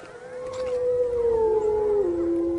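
A wolf gives one long, loud, close howl in a winter valley where elk gather, its tone sliding slowly downward and holding steady, with a fainter second voice beneath it.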